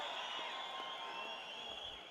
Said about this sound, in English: that has lit this crowd up once again